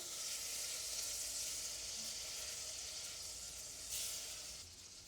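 Brandy sizzles hard in a hot pan with Kampot peppercorns, a loud, steady hiss that continues close-up for several seconds and eases slightly near the end, with no talking.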